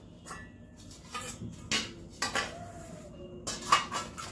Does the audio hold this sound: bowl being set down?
yes